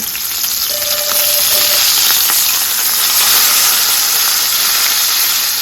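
A steak searing in a smoking-hot pan of oil with garlic butter, giving a loud, steady, close sizzle and hiss that runs unbroken throughout.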